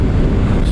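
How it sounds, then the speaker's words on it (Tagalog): Strong wind batters the microphone while driving on a road near Aritao, Nueva Vizcaya, giving a loud, continuous, low rumbling buffet with no voices. "Talagang napakalakas ng hangin."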